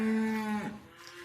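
A single cow lows inside a feed barn, a close, drawn-out moo that bends downward before trailing off into quiet barn ambience.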